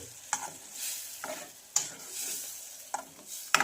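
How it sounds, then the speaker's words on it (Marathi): A spoon stirs spinach dal in a pot, making a few sharp scrapes and clinks spaced about a second apart over a soft, continuous background sizzle, close and clear with no talking. "त्याआधी आपल्याला एक वेळेस हे मिक्स करून घ्यायचं आहे"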